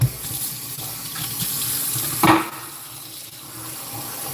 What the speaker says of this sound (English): Wash your green onion.